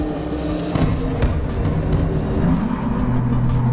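In a Roblox driving game, a car engine revs inside a tunnel, a dense, loud, reverberant roar with gear changes, heard steadily for a few seconds.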